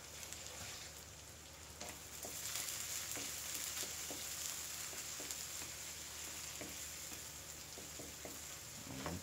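Ginger and onion sizzle steadily in a hot oiled pan while being stirred, with soft scraping taps of the utensil over a constant frying hiss.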